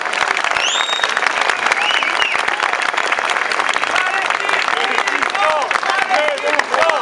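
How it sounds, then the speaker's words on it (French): A rally crowd at a May Day gathering in Liège breaks into dense, sustained applause and clapping, loud and continuous throughout, with scattered cheers and whistles mixed in. "je vous demande une salle d'applaudissements pour qu'on entende notre soutien bien loin"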